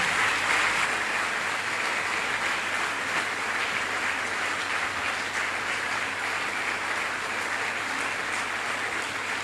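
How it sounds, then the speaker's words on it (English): Sustained applause from a large forum audience, a steady dense wash of clapping that holds evenly at a moderate level from start to finish with no talk over it. "Let's keep the applause going."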